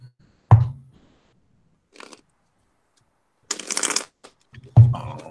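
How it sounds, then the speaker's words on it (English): Cards being shuffled: two sharp taps, then a brief riffle, then a louder, longer riffling burst, and a final tap, all close and set against near-silence. "And while you're shuffling"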